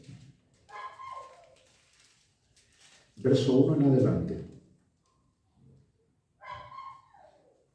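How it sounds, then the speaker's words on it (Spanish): A small pet dog named Leo barks and yips during a church sermon, short bursts sounding faintly and at moderate distance between stretches of someone speaking in Spanish. "Ese perrito que está ahí cantando es el Leo"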